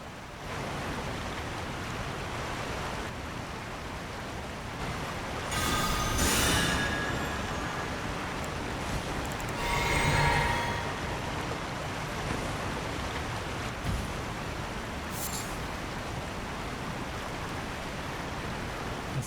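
Rushing waterfall in the video game Elden Ring, inside Sage's Cave: a continuous broad roar of falling water that swells louder in places, with no talking.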